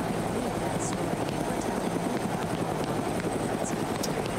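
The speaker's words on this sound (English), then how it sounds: "the helicopter audio is too loud" A helicopter in a video game drones with a loud, steady rotor chop throughout, with faint brief high clicks and chirps over it.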